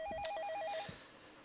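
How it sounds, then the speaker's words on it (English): A telephone rings in a scary video game, one short burst of rapid, trilling electronic ring, close and clear, fading into quiet. "The goddamn phone. Who's calling now?"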